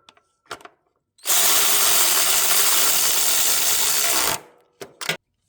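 A power driver spins on the carburetor mounting nuts of a Cub Cadet mower in one loud, close, continuous whir lasting about three seconds, with a few small clicks and taps before and after.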